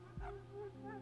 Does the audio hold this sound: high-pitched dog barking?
yes